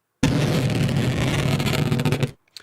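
Speed-stretched and Tempophone-stretched balloon sounds layered into a monster roar make a heavy, thick, rasping growl that holds loud for about two seconds before dropping away, with a faint trailing crackle.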